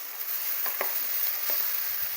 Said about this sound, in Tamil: வெங்காயம் வதங்கிக்கிட்டு இருக்கும் போது